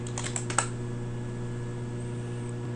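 R code typed on a computer keyboard: a quick burst of about six key clicks in the first half-second, then only a steady fan hum with no voice.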